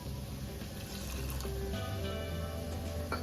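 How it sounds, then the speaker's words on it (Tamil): Water pours steadily into an Instant Pot over vegetables for a veg biryani, a quarter cup added in one continuous close trickle with no talk. "இப்போ வந்து 1/4 கப் தண்ணி, இந்த காய் வந்து கொஞ்சம் வேகிறதுக்கு ஊற்றிக்கலாம்."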